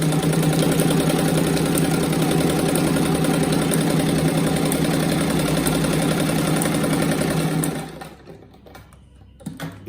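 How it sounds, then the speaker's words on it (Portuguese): Sewing machine running steadily as it stitches a seam on fabric scraps for a rag rug, a loud continuous mechanical whir close by that stops near the end, leaving quiet room noise. "daí só colocando assim e passando a costura."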